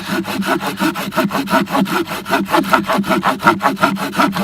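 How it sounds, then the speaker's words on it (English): Rapid, rhythmic strokes of a hand saw cutting through thick logs, steady back-and-forth rasping close up with no voices. "So I'm sawing up logs to split to do feathers with."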